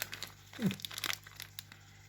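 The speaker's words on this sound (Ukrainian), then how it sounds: "Ось вони в таких пакетиках, типу." Plastic packets of Ukrainian-made catfish food tablets crinkle and crunch close by, a short burst of rustling handling for about two seconds with little else around it.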